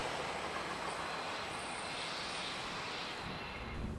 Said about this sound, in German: Und jetzt kommt der Desiro, der sich da vorhin hinten angeschlichen hat.